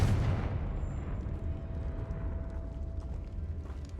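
A Confringo blasting spell goes off in a Harry Potter video game: a loud, full-bodied burst opens the moment and then decays into a long, rumbling roar with a faint steady tone underneath.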